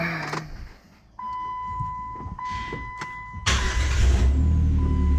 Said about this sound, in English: let's see if this thing will crank up